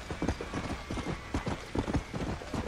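Horse hooves gallop across the ground in the Red Dead Redemption: Undead Nightmare video game, a fast, steady, close clip-clop rhythm under a faint bed of ambient noise.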